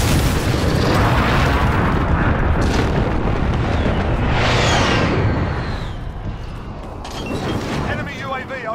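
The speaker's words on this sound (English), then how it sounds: "Be advised, friendly position airstrike inbound." Airstrike explosions in Call of Duty Modern Warfare, heavy booming blasts that rumble continuously and loudly, then ease off toward the end as a voice speaks over them.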